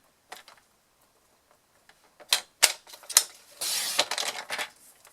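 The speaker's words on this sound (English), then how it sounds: "I'm just going to grab my paper trimmer here, as I want to take some of the length off that." A paper trimmer slicing off a strip of paper while making a card: a few light clicks, then sharp snaps and a short scraping glide of the blade.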